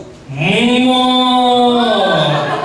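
A person imitates a sheep with a long, loud, wavering bleat lasting about two seconds, close and alone, before a children's audience in a church assembly hall.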